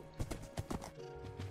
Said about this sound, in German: Er reitet ein Pferd, ja.